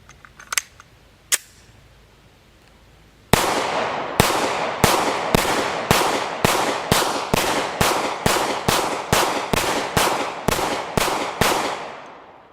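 Steyr M9A1 pistol fired in a rapid string of about fifteen sharp, loud shots at a steady pace, preceded by a couple of faint clicks.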